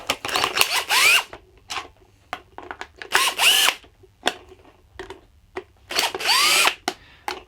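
A powered screwdriver removes the large screws from a VTech V.Smile joystick controller in three separate whirring bursts, with small clicks and handling noises between them.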